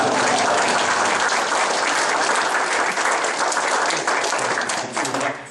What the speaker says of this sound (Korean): 다 같이 박수 치면서 합니다